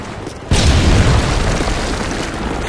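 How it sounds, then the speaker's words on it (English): A Predator missile explodes in a Call of Duty match: a sudden heavy boom that hits after a half second of quieter game noise and rolls on as a long, loud, rumbling blast. "Friendly Predator missile inbound."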